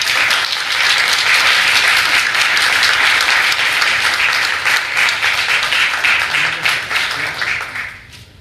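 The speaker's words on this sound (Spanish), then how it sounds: "Te felicitamos, un gran aplauso." Sustained audience applause at an economics research award ceremony, dense and loud throughout before tapering off at the end.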